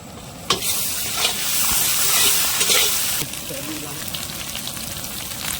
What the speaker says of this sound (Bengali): পেঁয়াজ আমাদের লাল লাল ভাজা হয়ে গেছে।